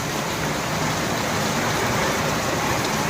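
Rain falls outdoors in a dense, loud, unbroken wash of noise with no pauses or voices.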